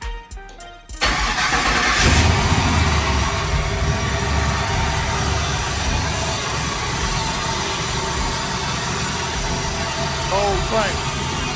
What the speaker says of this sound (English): This is a cold crank. It's about 35, 36 degrees outside.